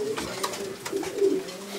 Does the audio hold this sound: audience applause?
no